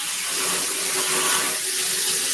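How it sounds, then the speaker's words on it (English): Water rushes steadily from a tap while a turtle tank is being cleaned indoors, a continuous close hiss and splash with no talking over it. "So if you hear rushing water in the background, that's what I'm doing now."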